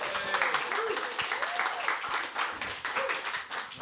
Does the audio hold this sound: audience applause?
yes